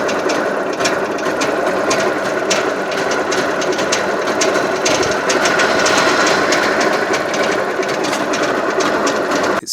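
A Trabant two-stroke engine idles roughly and steadily, a loud close buzzing rattle with uneven knocking pulses that continues without pause and with no talk over it.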